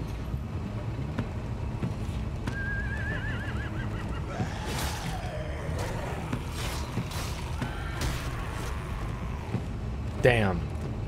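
Horses neighing in The Walking Dead: A New Frontier video game, a couple of whinnies rising over a busy game soundtrack with rumble and voices, plus a sharp squeal near the end.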